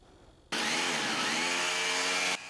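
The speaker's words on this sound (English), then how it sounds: "After drilling holes in the toilet," Power drill boring holes into a bathroom toilet area for grab bar and handrail installation, a loud steady whine starting abruptly after a quiet half second and running continuously for nearly two seconds before cutting off.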